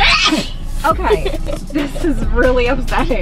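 A person sneezes sharply at close range, then people talk loudly over the moment.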